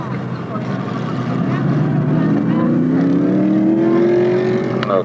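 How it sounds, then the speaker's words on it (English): A pro stock race car drones down the back straightaway at Stafford Speedway, its engine pitch rising steadily and loud throughout, with crowd and track noise around it. "Chris Kopech car as it huffs and puffs its way down the back straightaway."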